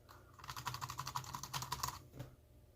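Rapid keystrokes on a Bluetooth keyboard paired with an Amazon Fire HD 8 Plus tablet, a steady run of close, crisp clicks for about a second and a half before stopping, with no voices.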